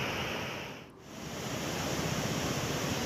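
Shetrunji river in flood after heavy rain, a steady broadband rush of fast water that dips briefly before returning, loud and continuous with no voices.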